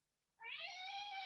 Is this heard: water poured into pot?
no